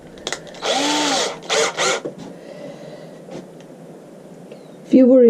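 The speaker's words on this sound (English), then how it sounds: "Just going to drill one hole either side with a screw through the middle." A power drill bores a hole through a mould board for resin casting, two or three short whining bursts close by, then quiet room tone and a brief tonal sound at the end.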